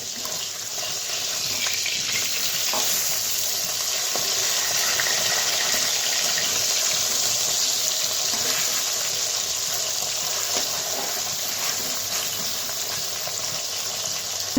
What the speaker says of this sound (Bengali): তেলটা গরম হয়ে গেছে, তো মাছগুলো এক এক করে ছেড়ে দিই।